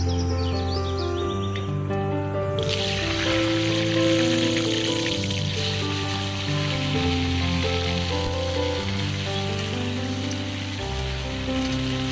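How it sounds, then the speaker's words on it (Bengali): Potatoes fry in oil in a kadai with a steady, hissing sizzle that swells in after a few seconds and carries on evenly beneath continuous background music. "আলু ভাজবো তাই কড়াতে আমি তেল দিয়ে দিচ্ছি"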